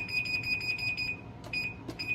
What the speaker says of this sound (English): So now we're gonna set the timer to 15 minutes.